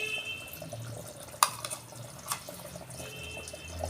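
Water runs and splashes while a container is rinsed during mutton korma cooking, a steady faint trickle with a few sharp clinks and splashes.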